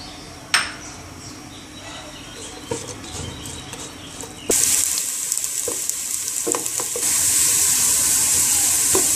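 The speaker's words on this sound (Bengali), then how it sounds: "পেঁয়াজ কুচি, রসুন কুচিগুলো ভেজে নেব।" Chopped onion and garlic fry in oil in a pan for a cabbage and egg dish. A quiet stretch with a few clinks gives way to a loud, steady sizzle that carries on to the end.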